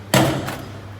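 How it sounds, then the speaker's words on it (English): Door of a 1955 car swinging open with a single sharp metallic clunk as the latch releases, followed by a fainter second knock and a steady low hum in the background. "so now theoretically the door will open"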